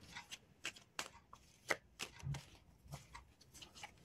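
Angel oracle cards being shuffled by hand, a series of short crisp riffling snaps and flicks at an uneven rhythm, close and fairly quiet with no talking.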